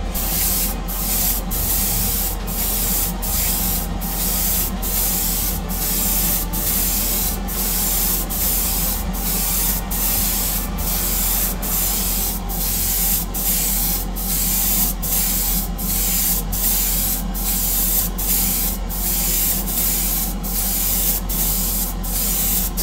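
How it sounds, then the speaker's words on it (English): An airbrush sprays a base coat onto a Greek-style vase with a loud, continuous close hiss, broken by regular rhythmic pulses as long lengthwise strokes are made. "Is turn it that way now and spray lengthwise."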